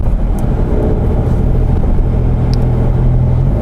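Modified cars, including a Toyota FT86, accelerate together toward 100 km/h on a road in Pekanbaru, heard as a loud, steady engine roar and road rumble from inside a moving car, with no clear talk.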